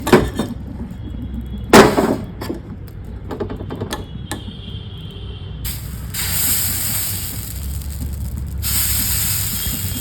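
Batter goes onto a hot pan over a lowered flame: a few sharp clicks and clatters first, then a sustained sizzling hiss swells up for the second half, with no speech.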